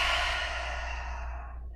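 A long open-mouth exhale during a yoga vinyasa flow, one steady breathy sigh that fades out over nearly two seconds, close and alone.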